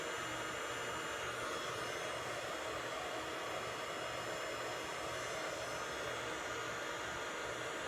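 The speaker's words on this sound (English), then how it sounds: "Love this blow dryer so much." A salon blow dryer runs continuously while drying and styling hair, giving a steady, even, close rushing whir of airflow with a faint motor hum underneath, unbroken for the whole stretch and with no voices.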